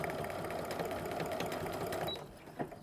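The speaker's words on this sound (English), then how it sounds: "I'm gonna stitch all the way across and reinforce again." A sewing machine runs in a steady, close whir while stitching across the top of a handbag made from quilting cotton or cork and canvas, then stops abruptly near the end.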